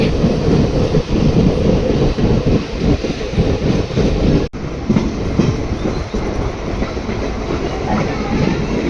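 Loud, continuous rumble and clatter of a train moving through a railway station, with rhythmic wheel clicks on the rails and a brief cut midway.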